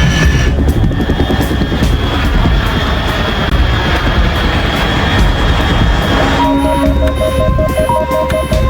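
Aircraft from Metal Gear Solid 3 Snake Eater, a loud steady throbbing rotor-like drone with rumbling low end throughout, joined near the end by beeping electronic radar tones.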